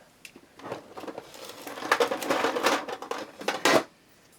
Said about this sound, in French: Je vais mettre des pinces à linge, pardon pour le bruit.